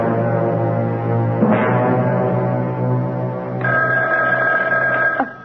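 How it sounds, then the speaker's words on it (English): A telephone bell rings as a radio drama sound effect, a steady loud electric ring over a low hum, pausing briefly and then resuming with a brighter, sharper ring that cuts off at the end. "That telephone never seems to stop ringing."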